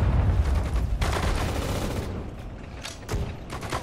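Rapid bursts of gunfire and booming shots overlap in a chaotic battle in the video game Sudden Strike 4, loud and continuous with a few sharper blasts standing out.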